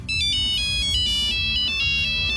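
A classic Nokia mobile phone ringtone plays loud and alone, a bright, beeping electronic melody of quick repeating notes with no talking over it.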